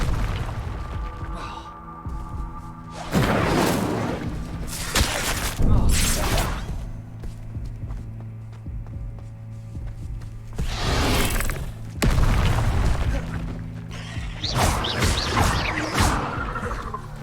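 Repeated Incendio fire spell casts in Hogwarts Legacy, several loud whooshing, crackling bursts of flame spaced a few seconds apart over a steady game hum.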